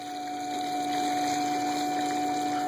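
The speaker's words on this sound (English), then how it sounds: "if you put your ear by your reservoir, you can actually hear the circulation of the electronic pump." Electronic water pump on a BMW circulating coolant, heard near the coolant reservoir as a steady, close whirring hum with rushing liquid, continuous and even, growing slightly louder.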